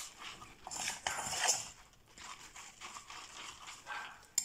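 A utensil stirs yogurt cake batter in a bowl for a sugar-free frozen yogurt cake, making steady scraping and clinking strokes at close range with no talking.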